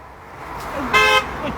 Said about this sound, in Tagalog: May busina tamo.